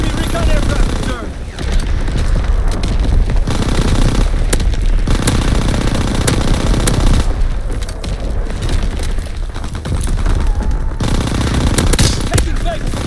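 A Tommy gun fires in a World War II–style multiplayer shooter, loud bursts of automatic fire with booms and explosions crowding the mix, dense and continuous, while voiced game callouts come and go over the battle.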